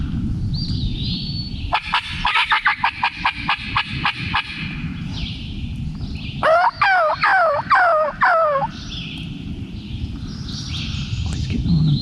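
Wild turkeys on public land in spring give a run of rapid, rattling full gobbles partway through, preceded by quick, loud clucking pulses, in an outdoor setting that is otherwise quiet.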